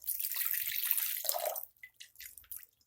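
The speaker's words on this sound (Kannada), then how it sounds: "1/4 ಗ್ಲಾಸ್ ಹಾಕ್ತಾ ಇದ್ದೀನಿ ನಾನು ನೀರು." Water poured from a glass into a pot of sprouted bean curry, a close splashing gush for over a second, then a few trailing drips and small splashes.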